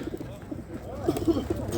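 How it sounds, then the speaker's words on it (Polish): Soft, low pigeon coos repeat a few times over busy market chatter and background voices at an animal market in Lublin, Poland. "taki gołąbek"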